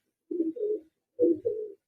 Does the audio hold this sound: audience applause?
no